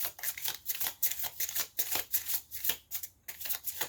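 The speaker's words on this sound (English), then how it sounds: "one more shuffle, just to see." Rapid riffle shuffles of a deck of cards, a series of crisp, crackling bursts repeating several times, close up with no talking.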